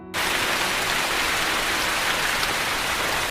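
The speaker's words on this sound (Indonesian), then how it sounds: "Malam hari hujan turun deras." Heavy rain pours steadily at night, a dense, even hiss of drops drumming on surfaces that fills the whole moment with no pauses and no voices.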